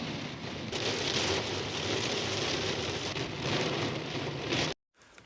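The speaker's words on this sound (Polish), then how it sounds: "I dalej leje i leje i nie przestaje" Heavy rain pours down steadily in a storm in the mountains of Bavaria, a dense, loud wash of drumming drops that holds constant before cutting off abruptly near the end.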